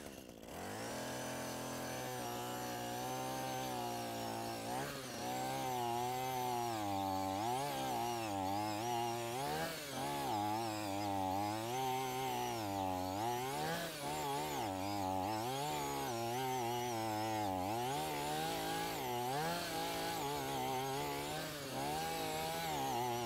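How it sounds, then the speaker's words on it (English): A power drill runs steadily for over twenty seconds, boring into soil beside a palm tree while installing a termite bait station, its motor pitch wavering as the load changes, loud and close with no talk over it. "So we'll drill a hole about this far away and make it a little wider for the other station."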